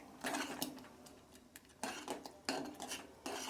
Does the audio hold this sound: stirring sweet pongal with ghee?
yes